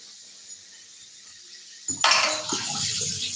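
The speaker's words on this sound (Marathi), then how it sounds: "मला पाणी सांडलं" Water suddenly splashes and pours onto a surface in a kitchen after a quiet start, a close, bright rush that settles into a lighter trickle.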